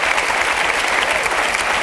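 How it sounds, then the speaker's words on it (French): A studio audience at a French music television show breaks into dense, loud applause, continuous and close throughout. "Donc vous pouvez l'applaudir à l'avance"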